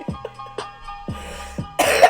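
A person coughs several times in short, sharp bursts, then ends with a harsher, louder throat-clearing cough.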